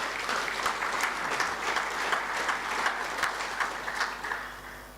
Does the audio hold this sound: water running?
no